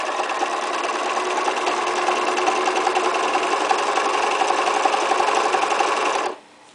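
A sewing machine straight stitching during free-motion appliqué of fabric leaves runs as a loud, close, continuous whirring buzz, then stops abruptly near the end.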